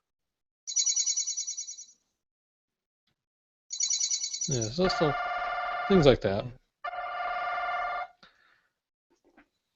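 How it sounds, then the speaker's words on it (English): Stock phone ringtones played back in sequence: a short trilling ring, then a longer ring sliding into a bright chiming melody, then another steady electronic tone. The sounds are clear and fairly loud, with a few spoken words after them. "They're just basically different ringtones. I don't know if I can play a couple for you."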